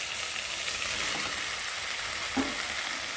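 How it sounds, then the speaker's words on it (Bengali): Soaked pointed gourds tipped into a pan of frying potatoes and spices, giving a steady loud sizzle with a brief splash and clatter near the end, no voices. "আর এখন আমি ভিজে রাখা পটলগুলোকে ঢেলে দেবো"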